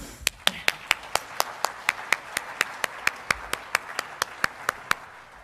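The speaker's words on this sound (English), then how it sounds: "So I'll say a round of applause for both of you." Crisp, evenly spaced claps at a government briefing ring out about four per second, sharp and regular over a low room hum.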